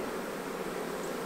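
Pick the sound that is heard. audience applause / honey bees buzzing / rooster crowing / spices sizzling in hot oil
honey bees buzzing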